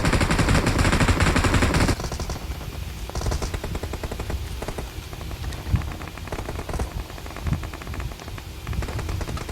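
Rapid gunfire in an Attack on Titan video game, a loud dense burst of shots for the first two seconds, then scattered quieter shots and impacts over steady background game noise.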